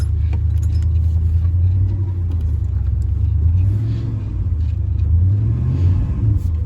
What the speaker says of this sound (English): Rev it up and it goes and then it stops.